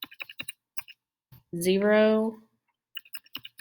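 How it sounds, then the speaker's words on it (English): Numbers are tapped in on a computer keyboard in quick bursts of light key clicks, with a pause where one person speaks before more brisk typing follows. "I'm going to type these in over here on my input"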